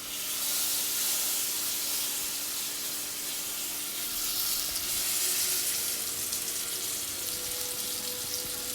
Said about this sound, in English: I'm going to hear the sizzle when I put this salmon in